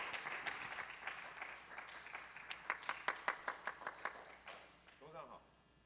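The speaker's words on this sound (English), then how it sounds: "Please welcome with our applause" Applause welcoming a speaker at the Taiwan-Germany Smart Machinery Forum, a faint scatter of clapping in a hall that thins into a few distinct, isolated claps before fading out, with a voice briefly heard near the end.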